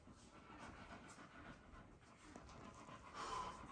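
An American Bully dog in labor pants steadily and quickly at close range, with soft breathy rhythm continuing throughout and no talking.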